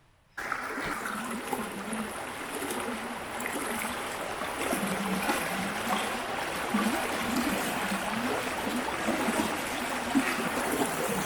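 Steady rushing and trickling water from the East Dart River on Dartmoor, a continuous babbling flow nearby with no voices.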